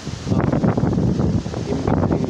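Strong desert wind gusting at 30 to 50 mph, buffeting the microphone with a loud, steady roar that surges and eases in waves without pause.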